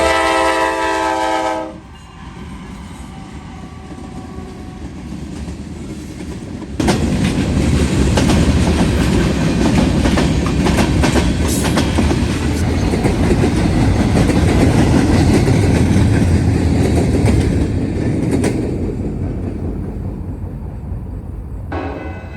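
A Norfolk Southern freight train led by an older Dash 9 locomotive with a C6M trailing rolls past at night. A horn sounds briefly near the start, then a loud, steady rumble of engines and wheels builds and holds before slowly easing off.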